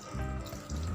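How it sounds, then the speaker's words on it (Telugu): Water is poured into a pot of chopped vegetables for an oil-free mixed vegetable kurma, a continuous splashing stream heard up close with no talk. "ఇప్పుడు ఆ మిక్సీ గిన్నెలో ఒకసారి అడుగున నీళ్లు పోసుకొని అవన్నీ కూడా కలిపి ఇందులో వేసేసుకోవాలి"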